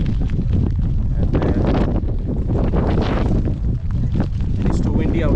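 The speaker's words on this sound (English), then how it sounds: "it's too windy out here" Strong wind at a canyon viewpoint in Meghalaya, India, roaring in gusts and buffeting the microphone throughout, with a voice speaking underneath.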